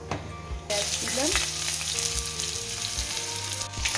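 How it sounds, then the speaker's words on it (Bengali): Onions frying in oil with kalonji (nigella seeds) and bay leaf for an aloo chorchori, a steady close sizzle that swells louder after a moment, with rhythmic scraping and stirring strokes and a faint tonal hum underneath. "পেঁয়াজটা ভাজা ভাজা হয়ে গেছে"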